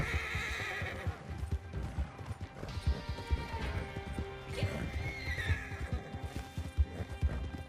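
Horse in the Red Dead Online video game neighing loudly and whinnying over rapid galloping hoofbeats, with crashing game effects and busy background action throughout.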